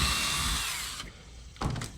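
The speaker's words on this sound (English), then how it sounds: "Doing my pilot hole." A power drill bores a pilot hole through a skeleton's hip bone into the leg bone, a loud whirring grind for about a second that cuts off, then briefly starts again.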